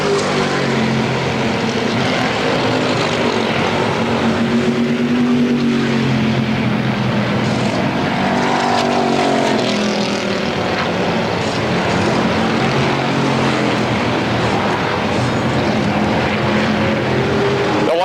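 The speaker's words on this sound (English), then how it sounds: "2 laps remaining, and Komarinsky takes over the second place spot" Race cars lapping the Motordrome Speedway oval at a 1992 short-track event, their engines a steady, loud continuous roar with rising and falling pitch as cars pass through the turns, no talk over it.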